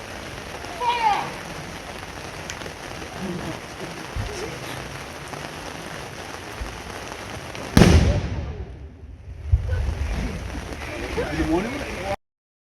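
A matchlock musket volley is fired by a living-history group portraying the Rifle Brigade at a UK living-history festival. A single loud, sharp crack is followed by a fading rumble, with voices and crowd noise around it.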